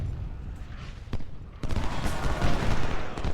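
Musket volley fire in the Ultimate General: Civil War strategy game: a dense crackling fusillade that swells into sustained rattling gunfire, loud and continuous, after a quieter distant stretch.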